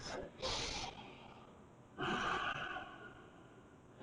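Two slow, deep breaths are taken during an extended side angle yoga pose, each a soft, close inhale-exhale rush of air with a calm pause between them.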